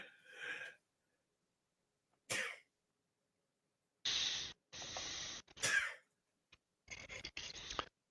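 A sneeze in a quiet room among a few short coughs and throat-clearing bursts, close to the microphone, with silent gaps between the sounds.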